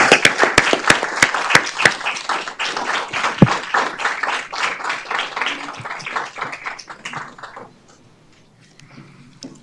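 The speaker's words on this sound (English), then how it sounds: "One more round of applause for our Aurora Youth Council." A city council meeting audience gives a round of applause for the Aurora Youth Council, sharp claps that start loud and crisp, thin out, and fade away to near silence by the end.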